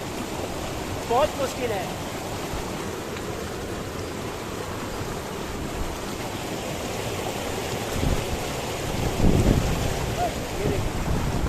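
Mountain stream water rushing steadily along the rocky Himalayan trail from Gangotri to Gomukh, a broad continuous roar with wind buffeting the microphone while a person speaks briefly over it.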